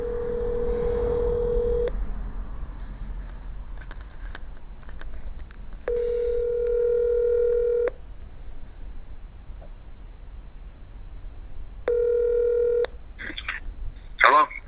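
A phone dialing a call: a steady tone, then bursts of rapid dual-tone keypad beeps and a second ringback-like tone, with brief handling clicks and faint speech near the end.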